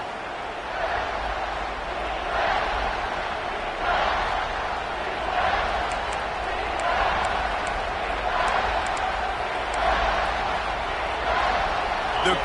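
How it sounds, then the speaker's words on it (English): Football video game stadium crowd roaring continuously at high volume, swelling in waves near the final two minutes before a big third down, with an announcer talking over it. "The crowd elevating its energy, willing this defense to get a stop on this big third down."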